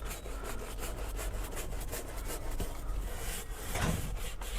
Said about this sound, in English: I can use this brush also to agitate.